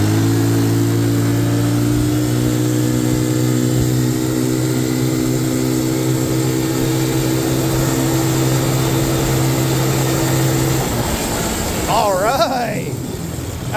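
A Can-Am DS90X ATV engine is held at wide open throttle, a steady buzzing drone with strong harmonics that cuts off abruptly near the end, followed by brief voices.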